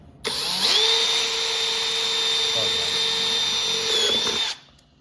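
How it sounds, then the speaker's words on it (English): A power drill whines steadily at high pitch for about four seconds while drilling a hole, starting abruptly and winding down at the end, close and loud. "I'm pulling out the drill again"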